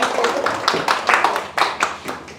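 Applause from a workshop audience for the interpreter, a spread of irregular claps building in brief bursts, moderately close, with some voices mixed in.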